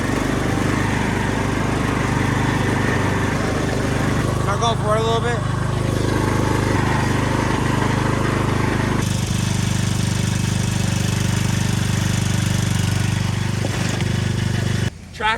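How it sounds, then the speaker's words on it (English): A Craftsman lawn tractor's engine drones loudly and steadily as it strains to pull, running throughout with a rougher burst midway, while a person speaks briefly over it. "Tractor pulling didn't work."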